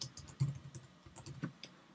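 Quick, uneven typing on a computer keyboard, up close and soft, with a patter of key taps running steadily through a quiet room and no talking.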